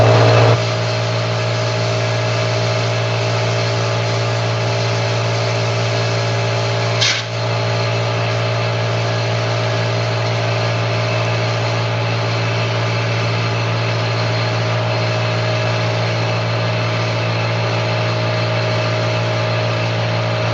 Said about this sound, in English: Turn off my air compressor.